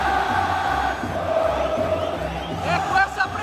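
Vasco da Gama supporters roar at São Januário stadium as the teams come out against Água Santa. A big, distant crowd sends up rising cheers and whoops, with a louder swell near the end.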